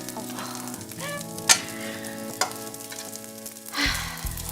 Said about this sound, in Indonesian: lagi praktek bikin nasi goreng spesial